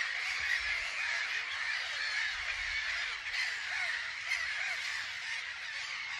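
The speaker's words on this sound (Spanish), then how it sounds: "Las gaviotas patrullan las inmediaciones del río Tisza, donde las presas son abundantes." A flock of gulls calls around the banks of the Tisza river, a dense, continuous chorus of harsh cries at moderate distance with no other sounds standing out.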